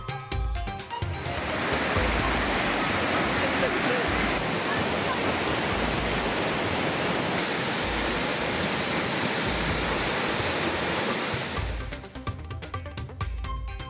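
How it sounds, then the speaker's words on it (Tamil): Courtallam waterfalls in flood after continuing rain, a loud, steady roar of rushing water that fills the whole stretch without a break, then fades near the end. "தென்காசி மாவட்டத்தில் தொடரும் மழையால் குற்றால அருவிகளில் ஆர்ப்பரிக்கும் வெள்ளம்"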